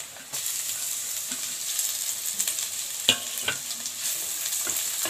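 Ginger garlic paste fries in a pan for a rajma masala: a continuous bright sizzle heard nearby, broken by sharp spoon clacks and scraping as it is stirred.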